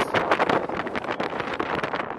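Strong wind on a steep moorland hilltop in Yorkshire batters the microphone in loud, rough, fluttering gusts that run continuously throughout.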